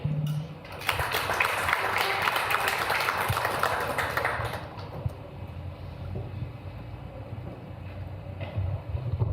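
Audience applause at a digital health symposium, a broad wash of clapping from about one to five seconds that then thins into quieter scattered claps and room noise.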